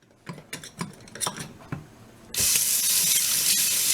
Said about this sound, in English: Let me get some cold water in the sink.